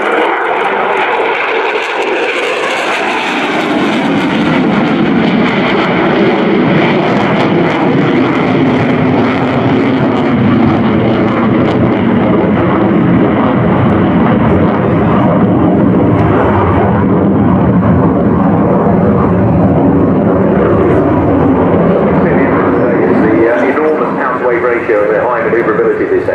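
A Eurofighter Typhoon FGR4 jet roars through a flying display at the Royal International Air Tattoo 2018, a continuous loud, shifting engine rumble heard beneath a commentator's voice.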